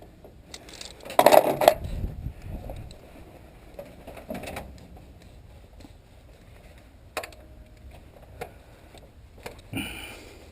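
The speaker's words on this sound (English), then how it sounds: "Gotta love ratcheting wrenches." A ratcheting wrench is used during an intake gasket repair on a 1999 Chevy Tahoe 350, making a short burst of quick metallic clicks followed by sparse, fainter ticks and clinks in a quiet setting.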